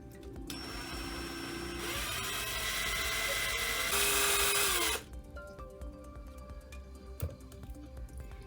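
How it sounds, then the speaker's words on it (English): A power drill bores a hole through the plastic cap of a bottle, whining steadily at a close distance for several seconds before stopping, followed by light handling clatter. "first we're gonna need to drill a hole"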